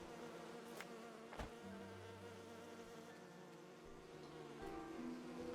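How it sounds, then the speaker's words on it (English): Bees buzzing in the Enderal video game: a quiet, continuous drone with wavering pitch and a couple of brief clicks, soft and steady throughout with no voices. "the bees come out in the daytime?"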